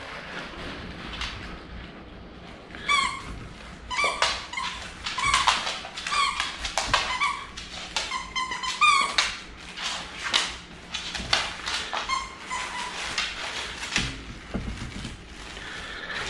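A dog chews a squeaky toy that crunches a little, producing repeated high squeaks in irregular bursts, close and moderately loud, between stretches of quieter gnawing and rustling.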